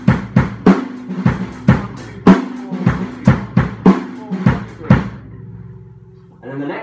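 A drum kit is played slowly in 11/16 with the beats grouped 4-4-3. Close, loud hits follow in an uneven repeating pulse, then a short quiet ring-out.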